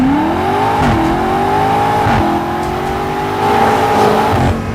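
A 2021 BMW M5 Competition sedan engine revs hard and accelerates, its loud, near drone rising in pitch through several gear changes with brief dips between pulls.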